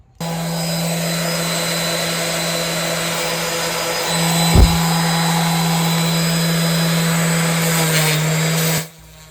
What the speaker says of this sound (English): The sander jumping around is not a fault of the sander.